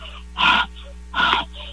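A voice imitating labored, wheezing breathing, two strained raspy breaths in a slow rhythm, close and clear with a low steady hum underneath.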